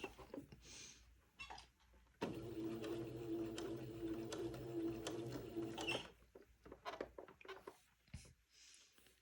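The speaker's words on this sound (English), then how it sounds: "let me begin to sew with a straight stitch" Sewing machine running a slow, controlled straight stitch while repairing an antique baptismal gown. A faint steady mechanical whir lasts about four seconds, framed by quieter handling noises, with no talk.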